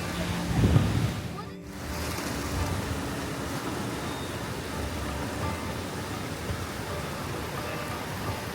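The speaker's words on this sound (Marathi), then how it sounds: "इथं समोरून पाणी येते हे पाणी पूर्ण असं वरतून खाली येते" Steady broadband rush of a monsoon stream flowing downhill fills the clip, with a brief low rumble near the start; continuous and fairly close.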